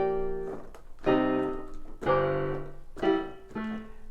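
Piano harmony with several notes struck together, four chords played about a second apart, each ringing briefly before the next, close and moderately loud.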